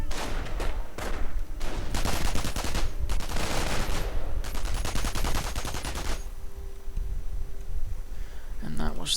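In a strategy video game, machine gun fire rattles in several rapid bursts, fairly loud, then stops, while a voice commentates throughout.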